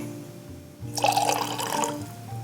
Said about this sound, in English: We're going to pour a little bit of the cranberry juice for color.